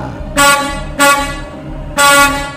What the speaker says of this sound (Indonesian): pengemudi truk berulang kali membunyikan klakson untuk meminta jalan